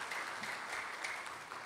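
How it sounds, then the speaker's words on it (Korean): Short burst of congregation applause during a Methodist Sunday worship service after a hymn; continuous, fairly faint clapping from a room full of people. "박수 한번 해주시기 바랍니다."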